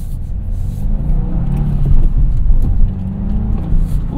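A sporty car, either a 2024 Subaru WRX or a GR Corolla, drives along a freshly paved street, its engine droning steadily with a faint whine riding over the low road rumble, rising and easing slightly.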